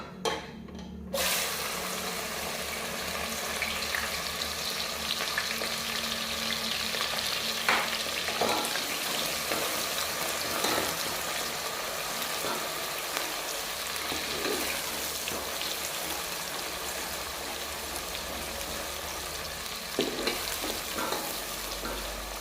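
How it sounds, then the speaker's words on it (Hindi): Onions hit hot oil for sohanjna gosht with moringa flowers and erupt into a loud, steady sizzle that carries on throughout, broken by occasional scraping stirs, with no talking. "ऑयल गर्म हो चुका है। अब हम इसमें ऐड करेंगे प्याज"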